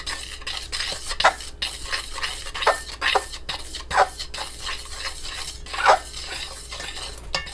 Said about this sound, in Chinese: 然后用筷子稍微把它搅拌一下